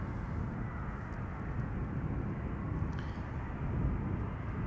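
A KLM Boeing 787 Dreamliner at Schiphol Airport, its engines giving a steady, distant broadband roar that stays even and slightly swells toward the end, with no voices over it.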